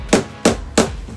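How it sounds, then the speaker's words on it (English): Three sharp hammer blows land close by on vinyl plank flooring in an RV, evenly spaced about a third of a second apart, each a loud knock on a hard surface. "I swear, every time I go to talk, he's pounding away."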